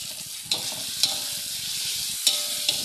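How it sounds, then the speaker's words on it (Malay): Sliced meat, carrots and mushrooms stir-fried in a pan for a fried carbonara-style fettuccine give a steady, close sizzle, with a few sharp utensil clinks against the pan. "Kacau sebati dan goreng sehingga kesemuanya betul-betul masak."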